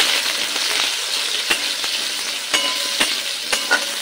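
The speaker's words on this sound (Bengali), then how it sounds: "এটা ঢেকে নিয়ে আলুটা একটু লাল করে ভেজে নিই।" Potatoes seasoned with salt and turmeric fry in a covered pan, giving a loud, steady sizzle with sharp crackles and spatter pops at irregular intervals.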